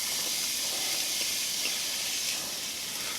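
Chopped onions hitting hot cooking oil for a ratatouille, giving a loud, steady, close-up hiss of sizzling that holds evenly throughout with no talking.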